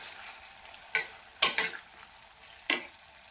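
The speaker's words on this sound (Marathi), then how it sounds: "याला आपण 1-2 वेळा परतून घेऊया, म्हणजे आपला बटाटा खाली चिकटला जाणार नाही।" Potatoes for a fasting sabudana khichdi stir-fried in a pan: a low background sizzle broken by four sharp scraping stirs of a spoon, two close together in the middle, with no voices.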